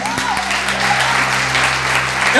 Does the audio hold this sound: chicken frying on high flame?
no